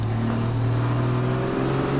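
A 1000 hp rally race car engine holds a steady, loud drone with strong low harmonics, heard close up and unbroken for the whole stretch.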